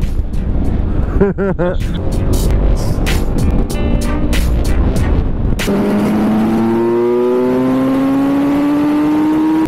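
A Yamaha XR motorcycle engine held around 5-6 thousand rpm, a loud steady drone with a rising engine tone in its second half, heard close up from the riding position under constant wind noise.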